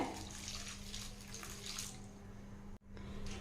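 Water poured over jaggery in a vessel, a steady close splashing pour that runs for about three seconds, briefly stops, then resumes.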